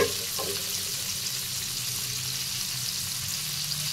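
Beans and chopped carrots fry in oil in a pan, giving a steady, close hiss and sizzle with a few faint stirring knocks early on.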